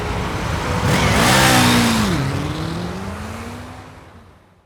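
A vehicle in a video game roars at full throttle, its engine note rising and shifting as it surges past, loud and broad with road rush, then fading away into silence.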